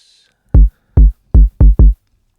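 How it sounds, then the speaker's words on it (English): A synthesized kick drum built from a sine oscillator with a noise layer in a modular synth thumps five times, deep and punchy with a fast pitch drop, loud and dry in a short uneven rhythm. "So the kick sounds like"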